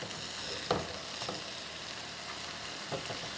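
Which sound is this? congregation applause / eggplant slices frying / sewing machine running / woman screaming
eggplant slices frying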